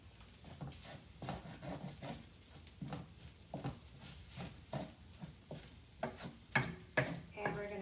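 Sticky rice sautéing in a pan is stirred and broken up in repeated scraping strokes, a soft rhythmic sizzle with regular spatula pushes that grow a bit louder toward the end.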